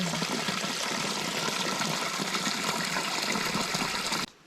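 Water gushes steadily through a garden irrigation hose laid across a vegetable plot, a strong continuous rushing flow that cuts off abruptly just before the end.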